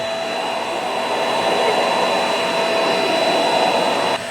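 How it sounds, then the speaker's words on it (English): A Catboxy NOVA 5-in-1 pet grooming vacuum runs with a loud, steady whirring drone, close by, used on a dog with a slicker brush, holding constant before dipping slightly at the very end. "now we're vacuuming the dog with the slicker brush"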